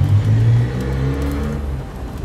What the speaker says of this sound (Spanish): No sé si escucharon un carro en la grabación.